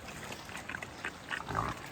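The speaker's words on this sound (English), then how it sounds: "Look at these pigs, they're growing nice." A few short, low pig grunts close by, coming in quick bursts against a quiet background hiss.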